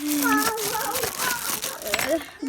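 Gift wrapping crinkles and crackles as a present is opened, the paper rustling in bursts while someone talks over it.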